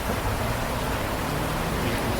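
Creek water flowing gently just after rain, a steady broadband wash of running water with no clear splashes, continuous and fairly close, no voices.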